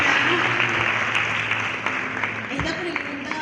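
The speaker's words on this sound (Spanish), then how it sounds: "¿Me da un aplauso?" Forum attendees give a round of applause during a question-and-answer session, a moderately loud, steady patter of many hands with a low hum underneath.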